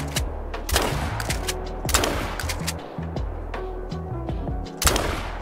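A 16 gauge shotgun fires at stubble quail in a hunting video game, giving a string of sharp, close gunshots at irregular intervals over a steady low background drone.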